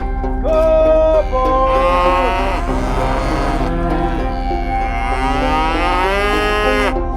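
Cattle in Canada being driven home moo loudly and close by, several long drawn-out calls overlapping one after another with different pitches, nearly continuous across the stretch.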